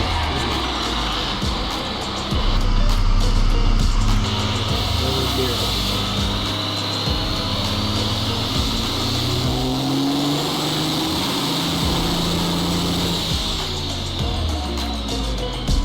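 A twin-turbo pickup truck engine running nitrous on a dyno roars loudly and steadily, swelling as it revs with turbo whine over the top, while a voice talks over it.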